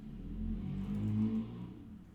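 Car engine revving outside, a low rumbling growl that swells and eases in a couple of surges, moderately loud and steady, heard from a distance with no talking.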